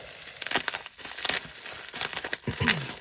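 Plastic packaging around a kit of pre-cut cards and envelopes crinkles and rustles in irregular bursts as it is handled and unwrapped, close and fairly loud.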